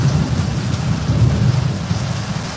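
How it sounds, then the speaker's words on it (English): A steady, heavy rush of water pouring into a guppy fish tank, dense and continuous with a deep rumbling undertone, loud and close like a downpour. "that's not a storm, that's fresh water for the fish"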